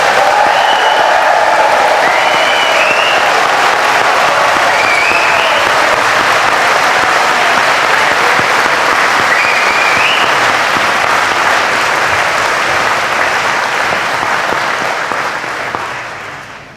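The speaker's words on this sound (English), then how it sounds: "I'd just like to take one last opportunity for a round of applause and a cheer for the class of 2020" A large crowd at a university graduation ceremony applauds loudly and continuously for about 17 seconds. Scattered cheers and whoops rise above the dense clapping, which stays strong until it fades at the end.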